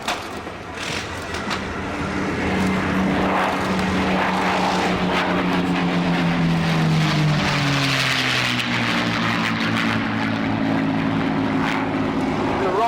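Spitfire and Hurricane piston-engine fighters fly past at an airshow, a loud, rising and falling propeller drone with a clear pitch sweep as they pass overhead against crowd ambience.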